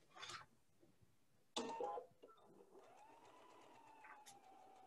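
Sewing machine stitching tulip quilt block pieces chain-fashion for a pillow, with short bursts of whirring stitching separated by pauses and light handling clicks, fairly quiet and close.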